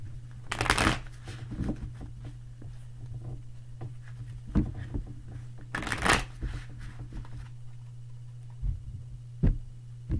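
Tarot cards being shuffled close up, several quick riffling bursts separated by pauses, over a steady low background hum.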